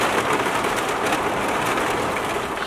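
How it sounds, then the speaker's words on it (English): Heavy rain during a storm at Assateague Island National Seashore pours down steadily outside a Scamp camper, a dense, loud, unbroken roar of drops with no voices. "the rain was very heavy"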